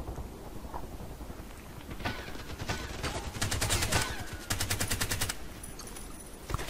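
An RPK-74 machine gun fires in the video game Contract Wars, with rapid bursts of rattling shots rising over a faint background, heard fairly quietly.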